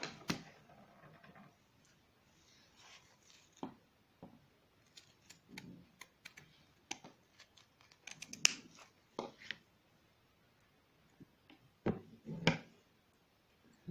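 Scissors snip through leather for a heart-patterned leather table mat, making scattered crisp clicks and short cuts with pauses between, fairly close and quiet, with no talking.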